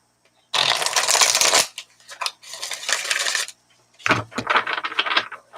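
A deck of tarot cards is shuffled up close in three loud, crisp riffling bursts separated by short pauses, with no talking.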